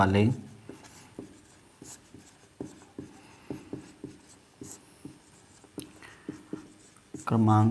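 A heading is written by hand on a board during an 11th-grade chemistry lesson on the modern periodic table, giving a steady series of short tapping strokes, with a teacher talking briefly at the start and end.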